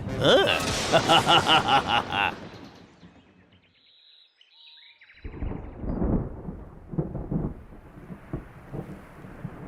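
A sharp thunder crash from a cartoon thunderstorm opens with broadband roaring, then a brief hush before steady rain and rumbling storm noise return, loud and close.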